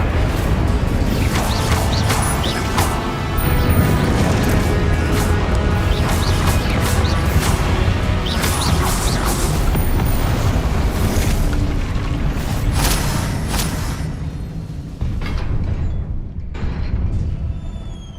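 Incendio fire spells cast in the Hogwarts Legacy video game, heard as loud, dense fiery blasts and rumbling crashes over game sound that fade toward the end.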